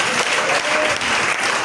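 Church congregation applauding in a brief, dense burst of steady clapping at close range.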